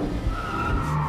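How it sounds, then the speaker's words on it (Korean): A Nissan sports car drifting through a parking garage in the Quantum Break video game, with a steady tire squeal and engine roar filling the whole stretch at moderate loudness, no talk. "드리프트 한다야 주차장에서야"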